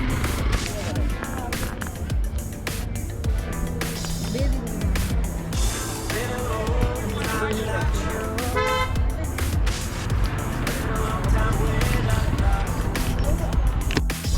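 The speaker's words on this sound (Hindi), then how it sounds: "तो भाई फाइनली ट्रैफिक चल चुका है" Busy road traffic on a road trip in India, with car horns tooting repeatedly over a steady rumble of moving vehicles. People talk throughout, and music plays underneath.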